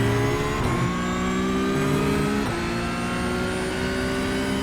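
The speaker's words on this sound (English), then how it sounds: "And then we are full throttle through here." Porsche 992 GT3 Cup race car in iRacing held at full throttle, a loud steady engine drone with bright harmonics that climb, dip briefly at a couple of gear changes, then keep rising, with no talk.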